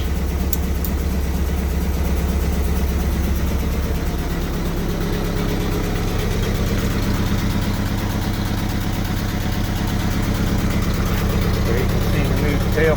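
An M38A1 Jeep engine idles steadily at the tailpipe, a low, even rumble running throughout, with someone talking over it.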